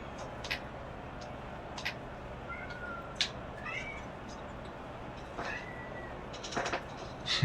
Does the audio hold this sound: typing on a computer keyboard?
no